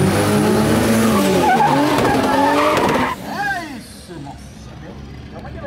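A race car engine roars loudly with rising pitch as it accelerates hard down a drag strip, tires squealing, while an excited Portuguese-speaking announcer talks over it; the roar then fades.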